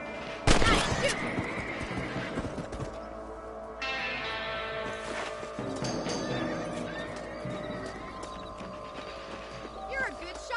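Horses whinny and neigh loudly up close in Red Dead Redemption Remastered, with clip-clopping hooves and ambient game sounds running through, and a brief burst of gunfire early on.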